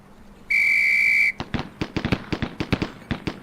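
A sustained whistle blast from a drill instructor at a police academy shooting range in Police Quest: SWAT, followed immediately by a rapid string of sharp semi-automatic gunshots fired in quick groups.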